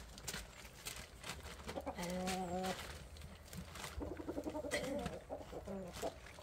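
Chickens clucking quietly on a farm, with a few drawn-out rooster-like calls in the middle, soft and fairly distant over a low background hum.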